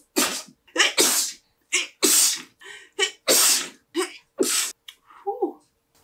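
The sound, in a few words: sneeze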